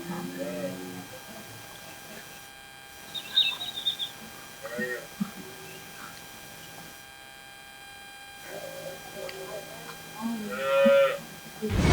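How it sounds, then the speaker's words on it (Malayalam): Cows at a cattle trading farm in Palani low at intervals, with a few louder moos rising over a steady barn background where birds chirp faintly. "ഇവിടെ കാണുന്നത് ഫുള്ള് നമ്മളെ പശുക്കളാണ്"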